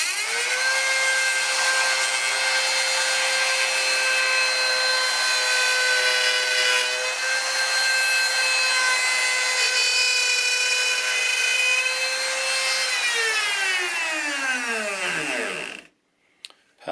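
Router cutting a slot into a 1/4 inch plexiglass piece during a guitar headstock spline repair: a loud, steady high-pitched whine with strong harmonics that holds for about fifteen seconds, then winds down in falling pitch as the motor stops.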